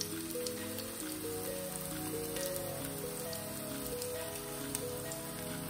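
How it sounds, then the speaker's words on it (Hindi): Vegetarian kababs fry in a pan with a dense, even crackling sizzle that continues steadily throughout, close up, with soft sustained background tones underneath. "ये फ्राई हो रहा है"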